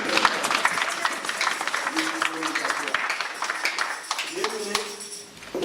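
Church congregation applauding after a scripture reading, a dense steady wash of clapping from a crowd close by, with singing or vocal tones rising over it in two places.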